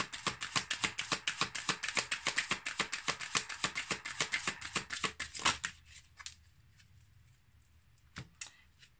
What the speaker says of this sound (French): on va prendre une carte de cet oracle.